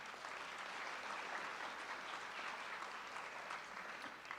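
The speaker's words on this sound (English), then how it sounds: "Please give them a round of applause." Steady applause from an audience gathered at a high school signing ceremony, a continuous, faint wash of many hands clapping with no talk over it.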